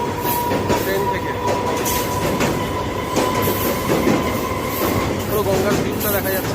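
A train rolls along near the Bally bridge over the Ganges, heard from on board: a loud, steady rumble with rhythmic clickety-clack of wheels on rail joints and faint squeals, continuous throughout.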